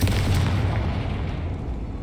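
A Confringo blast in Hogwarts Legacy destroys spider sacks with a single loud, booming explosion that rolls on for about two seconds.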